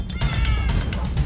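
Cats meowing in a Minecraft-style game, several short repeated meows in quick succession, loud and close with no talking.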